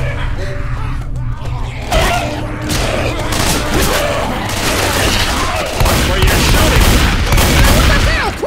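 Dense, continuous gunfire and booms from DeathCraft 2 fill the scene, loud and close, with voices shouting over the shooting.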